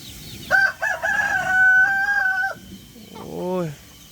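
A fighting rooster crows nearby: one loud, drawn-out call with a steady held middle, then a brief falling tail of clucks, heard over low background noise.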